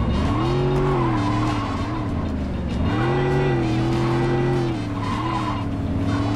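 A car driven in the video game Saints Row 2, with a steady, loud engine drone that rises and falls as it revs, tires squealing through skids, and no talk over it.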